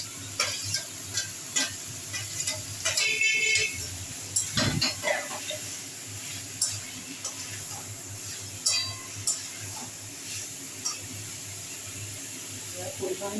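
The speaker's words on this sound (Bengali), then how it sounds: "আবার এটা একটু নাড়িয়ে দিয়ে এবারে কুমড়োটা দিয়ে দিলাম।" Pumpkin stirred in a sizzling pan for a Bengali pumpkin chhokka, a spatula scraping and clinking against the metal over a steady hiss of frying, with someone talking over it.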